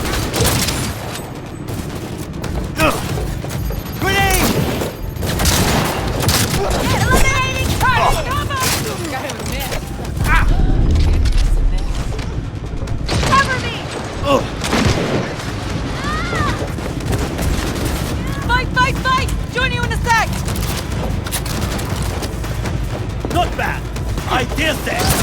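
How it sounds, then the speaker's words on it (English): Gunfire crackles throughout a Cyberpunk 2077 firefight, with a heavy grenade blast landing midway, amid shouting voices and in-game dialogue over the chaotic, continuous shooting. "Grenade!"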